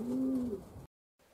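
A pigeon at a racing pigeon loft gives a low, close coo lasting under a second, followed by a brief silence and faint background.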